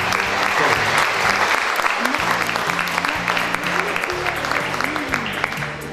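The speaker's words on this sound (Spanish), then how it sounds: "Un aplauso," Audience applause fills a formal solemn session hall, dense continuous clapping lasting the whole stretch, loud and close, with a low voice speaking under it.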